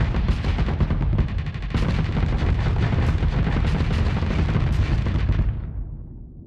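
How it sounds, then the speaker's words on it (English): Assault chain guns firing in the space combat game Starsector, a dense, rapid stream of booming shots and impacts that fades out at the end. "Switch to your assault chain guns."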